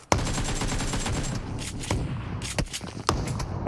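Several sharp shotgun blasts from PUBG Mobile ring out in quick succession, loud and close, separated by short gaps over a busy background of in-game noise.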